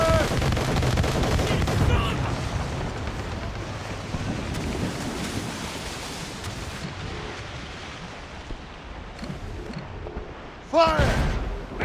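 Ship cannons fire in a naval battle in Assassin's Creed Rogue, heavy booms and crackling gunfire over wind and ocean noise, with a loud close blast near the end and voices calling out.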